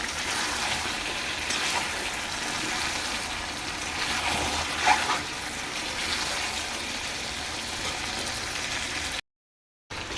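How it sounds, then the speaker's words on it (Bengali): Spice-washing water poured into a pot of duck curry with potatoes, a steady gushing splash that runs for several seconds and then cuts out. "এবার দিয়ে দিচ্ছি মশলা ধোয়া জলটা, আর দেবো পরিমাণ অনুযায়ী জল।"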